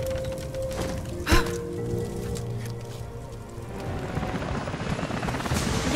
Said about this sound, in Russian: Яков, тебе летят вертолеты.